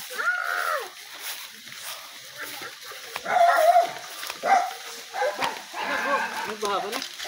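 A dog barks and yips several times in irregular bursts, fairly close, with people talking around it.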